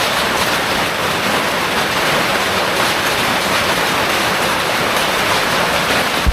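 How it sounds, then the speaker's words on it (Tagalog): Heavy storm rain pours outside a hanging tree house, a loud, steady, unbroken roar of water that holds at the same level from start to finish with no voices. "Tuloy pa rin ang laban kahit lumalakas yung ulan."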